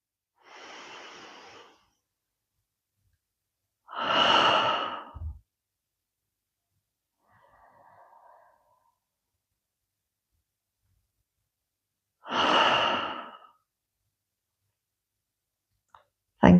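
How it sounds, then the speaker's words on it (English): Three slow, deep breaths during a yoga cool-down, each a soft airy inhale through the nose followed by a sighing exhale, close and quiet with long silent gaps between them. "Big inhale through the nose."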